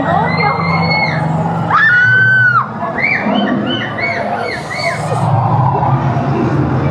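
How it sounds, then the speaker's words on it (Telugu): A group of riders screaming and shouting on an amusement park ride at Chessington World of Adventures, loud overlapping high-pitched yells and whoops rising over crowd noise. "మా వాళ్ళు అరుస్తున్నారు"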